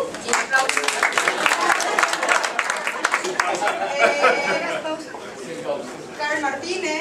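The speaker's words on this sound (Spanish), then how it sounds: "Y aplausos." Audience applause at a performance mixes with crowd chatter and voices; the clapping is strongest early on, then thins as talking and murmuring take over toward the end.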